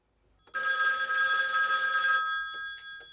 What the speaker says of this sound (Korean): 엘리자베스와 똑같은 말을 하는 그를 보며 무언가 이상함을 느낀 매튜는 그녀에게 전화를 합니다